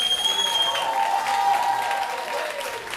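Audience at a charity jazz concert applauding loudly and continuously, a full dense wash of clapping filling the hall, with whistles and faint cheers on top.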